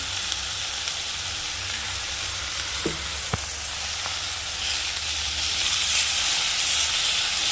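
Food frying with turmeric and salt gives a loud, steady close sizzle, broken by a few sharp clicks of stirring near the middle.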